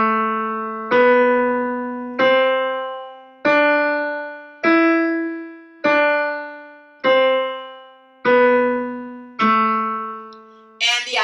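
A piano plays a looping finger exercise running from A up to E, with eight evenly spaced, clearly struck notes ringing out one after another, close and moderately loud.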